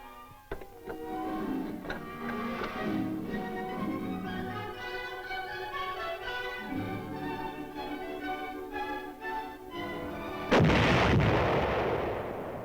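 An artillery battery fires in the field, with repeated booming reports and a rhythmic mechanical ticking, ending in one louder, broader blast near the close; no voices.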